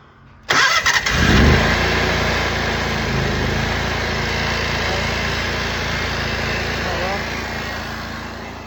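A small engine fires after the choke and throttle are set, catching with a sharp burst and then settling into a loud, steady, high-pitched run close by.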